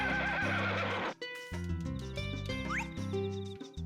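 Horse neighing in the farming video game Harvest Moon: A Wonderful Life, a loud whinny over a jingling music score, followed by rhythmic hoof clip-clops and bright tinkling game tones, with no talk.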